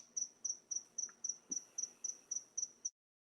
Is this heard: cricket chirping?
yes